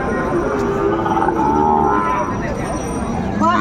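A six-month-old Sahiwal bull calf lets out a long, loud, close moo that wavers in pitch, with faint background voices and market noise around it.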